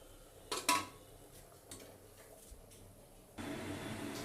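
Metal clatter from a pressure cooker lid being set on the pot in a home kitchen, two sharp clanks near the start followed by lighter taps and a low hiss, no talk.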